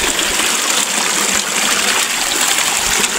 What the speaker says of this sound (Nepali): यहाँनिर चाहिँ खोलाहरू हेर्नु गाइस पानी यति सफा छ